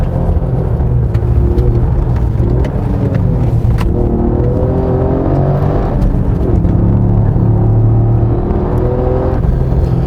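A Toyota GR Yaris engine pulls steadily on a winding mountain road, a close, continuous drone whose pitch climbs and dips through the revs under a constant road rumble, with no talking.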